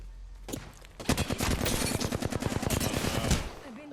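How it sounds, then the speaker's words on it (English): Flatline rifle in the game Apex Legends fires a long, fast string of loud, punchy close shots lasting a few seconds, with no voices over it. "with the flatline, I'm just basically just tap firing, just shooting them"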